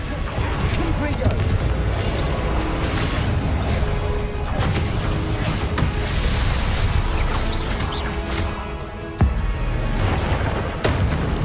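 A Confringo blasting spell in Hogwarts Legacy going off in dense, booming explosions and crashes that fill the scene, one sharp burst standing out near the end, with a voice speaking over the din.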